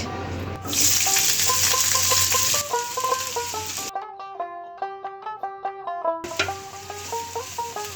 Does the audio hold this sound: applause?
no